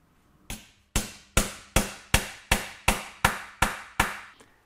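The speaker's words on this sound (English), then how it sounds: "So now I'll hammer this to fasten it into place." A hammer drives a T-nut into a wooden piece with ten sharp, evenly spaced blows, loud and close, each strike ringing briefly before the next, with no talking.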